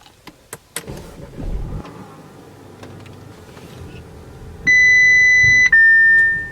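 A 2018 Audi A5 Sportback S line starts up indoors: a few clicks, a brief engine crank and low hum, then steady electronic dashboard chimes sounding loudly near the end.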